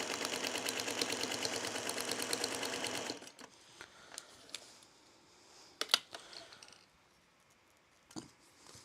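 A 301 sewing machine stitching at a small stitch length of about 15 to 17 stitches per inch runs as a fast, steady mechanical chatter for about three seconds, then stops, followed by faint handling clicks and rustles.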